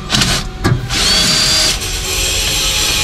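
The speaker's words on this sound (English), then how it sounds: "Pull the drill." A power drill whirs in short bursts and then runs steadily during an emergency sewer pipe replacement, loud and close with clattering work noises in the background.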